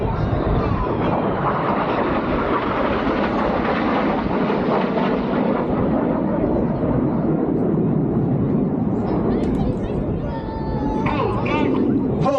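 RAF Red Arrows jets roar past at a 2024 air display at Ragley Hall, a loud, continuous broadband engine rush that swells and holds for the whole stretch, with an announcer's commentary running underneath.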